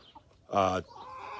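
A single short cluck from a chicken on a farm with a rotationally grazed flock, close and clear against a quiet background.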